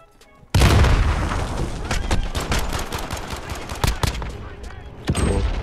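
Rapid gunfire and explosive booms from a grenade in the video game Call of Duty: Modern Warfare, loud and dense after a quiet start, with repeated sharp shots and a burst near the end.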